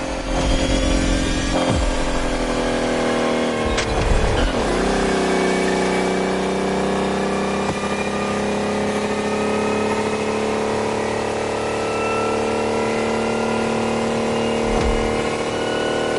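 Racing car engine in The Crew Motorfest, electric Odyssey event: a sustained, loud whine with a rising pitch and a brief roar near the start, carrying on steadily without speech.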